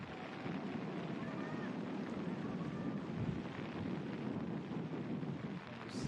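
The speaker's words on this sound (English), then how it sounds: "And gusts of wind now, John." Gusts of wind buffet the microphone at an outdoor ultimate frisbee match, a steady broadband rush and rumble with a faint voice or two in the distance.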